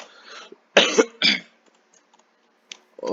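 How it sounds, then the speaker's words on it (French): A few short, sharp coughs in quick succession, close by, followed by quiet and a small throat sound at the end. "si je tousse c'est normal"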